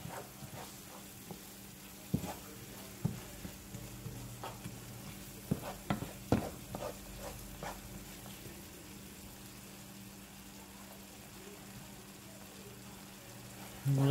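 Vegetables for homemade dressing cook in a pan, giving a steady low sizzle with occasional light stirring clicks and scrapes, fairly quiet and continuous.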